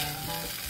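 Wide stir-fry noodles sizzle and crackle loudly in a hot pan as they are stirred, a dense steady frying hiss up close with no voices.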